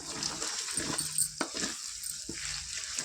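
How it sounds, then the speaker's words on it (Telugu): Ginger garlic paste and turmeric sizzle in a pan for a chicken curry with flat beans, a soft steady frying hiss broken by a few light clinks and scrapes of a spoon. "ఒక టూ స్పూన్స్ పసుపు వేసుకొని ఒక టూ మినిట్స్ ఫ్రై చేసుకుందాం ఇలా"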